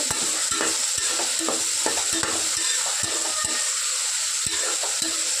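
Chopped vegetables with ginger-garlic paste fry in a pan for vegetable biryani. A continuous bright sizzle runs close by, broken by sharp spoon knocks and scrapes at irregular intervals, with no talking.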